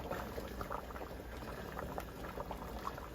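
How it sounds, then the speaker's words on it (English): Pot of rice porridge simmering in broth at a rolling boil, a steady close bubbling with soft popping blips throughout, no talk. "So it's at a rolling boil."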